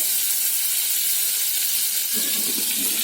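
Butter sizzling in a hot pan for a paneer and mint dish, a steady bright crackling hiss at close range, constant throughout with a faint low clatter near the end.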